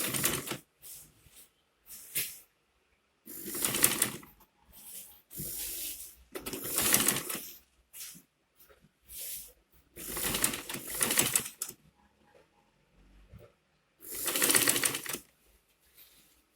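Sewing machine stitching the overlapped rough edge of a fabric face cap, running in short, irregular bursts separated by pauses, close and fairly loud.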